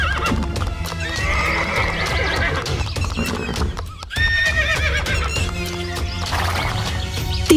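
Several horses neigh and whinny over steady clip-clopping hooves as three bandits ride up and dismount, the sounds loud, close and continuous with no talk.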